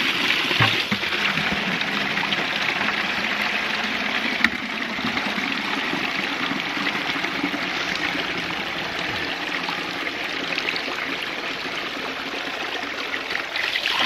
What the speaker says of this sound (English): see how long it takes to fill this bucket